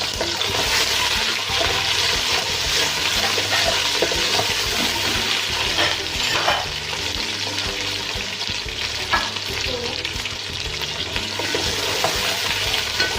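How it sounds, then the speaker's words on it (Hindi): Potatoes fry with lightly browned onions in a pan for mixed vegetable pulao, a loud steady sizzle broken by the scrape and clatter of stirring, close and continuous, with no talking. "तो 1 से 2 मिनट के लिए मैं आलू को भूनूंगी।"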